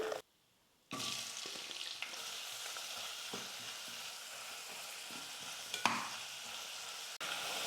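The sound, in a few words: sliced onions frying in pan for mint pulao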